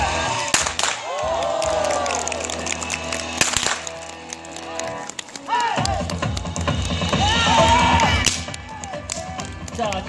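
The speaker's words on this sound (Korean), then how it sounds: "여러분들이 환호를 많이 해주셔서 신났나봐요" Audience at a Korean folk village horseback show cheering and clapping, a broad crowd roar with scattered applause rising and falling throughout, mixed with music and a presenter's voice talking over it.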